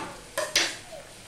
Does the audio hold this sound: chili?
yes